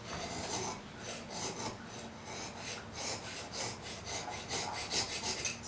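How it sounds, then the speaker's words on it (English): A thin file rasps rhythmically across the metal mouth of a spokeshave, with steady back-and-forth strokes, close and fairly loud, with no voices. "So I've got a little thin file here that will straighten up that mouth and sharpen it up."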